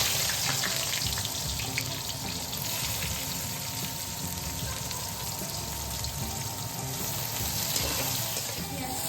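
Chopped onions sizzling in hot oil with cumin seeds, a steady loud hiss and crackle that runs unbroken and close throughout.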